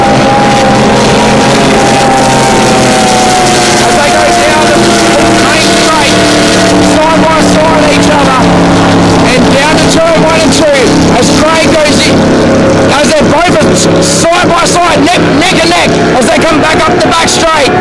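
Powerboats race down the main straight at an aquatic powerboat club event, a loud sustained engine roar with shifting pitch as boats pass side by side, alongside a commentator's steady talk.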